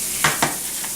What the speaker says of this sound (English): Just stir those tomatoes around in there.